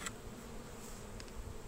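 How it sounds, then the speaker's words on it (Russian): Honey bees packed densely into a crowded 12-frame hive give a steady, low continuous buzz close by, with no talk. "Уже битком пчелы."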